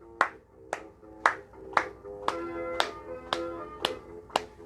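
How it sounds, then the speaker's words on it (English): Hands clapping up high in time with music during a children's movement game, about nine sharp claps at a steady beat over a tonal music backing. "Can we clap up high?"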